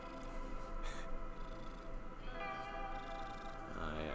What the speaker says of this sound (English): she's purring very loud